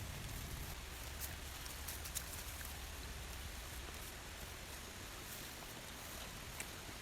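Light drizzle pattering steadily outdoors in the mountains, a soft continuous hiss of raindrops with faint scattered ticks, even in level throughout and without voices.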